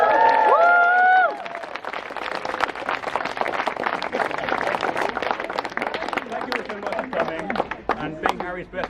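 A wedding celebration audience gives the bridesmaids a round of applause, sustained dense clapping mixed with cheering that fills the room after a voice opens the clip.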